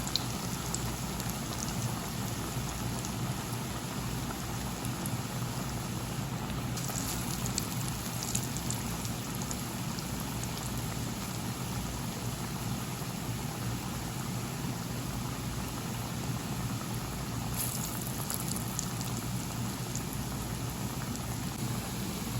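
Masala vada sizzling in coconut oil over a low flame, a steady dense crackle and hiss like light rain, continuous and fairly close throughout.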